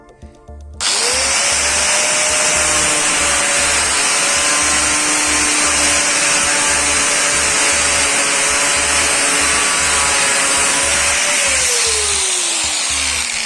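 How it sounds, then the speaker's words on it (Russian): Loud, sustained whine of an angle grinder with a cutting disc slicing through PVC wall paneling, running continuously at close range with a slight pitch drop near the end. "Резать буду обычной болгаркой, диском."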